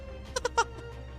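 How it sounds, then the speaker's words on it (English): A short, quiet, stylised horse neigh from the video game Fate/Grand Order comes as three quick, bright, bleating pulses in succession. "It's a horse neigh."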